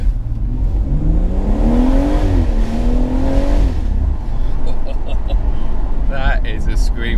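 A new BMW M140i engine revving in first gear with the window open, rising and falling in pitch as it climbs, loud and close, with talk over parts of it.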